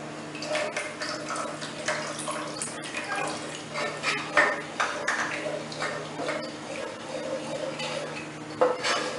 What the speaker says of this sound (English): now I am adding milk to this